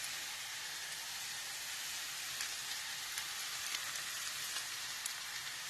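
Zucchini frying in butter in a pan, with a sugar mix going in, giving a steady, close, even sizzle and hiss throughout, with faint crackles here and there.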